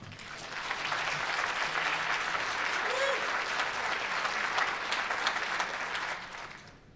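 Sustained applause from an audience at an awards ceremony, a dense even wash of clapping that swells in, holds steady for several seconds and tapers off at the end, with no talk over it.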